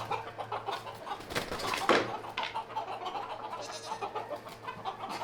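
Many hens and some smaller roosters clucking in a farm coop, soft scattered clucks and squawks with one louder burst near the middle, fairly distant and faint.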